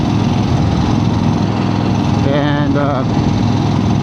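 Engine of a 1975 Harley Davidson XLCH motorcycle running steadily close by, a constant low rumble throughout with a brief spoken word over it.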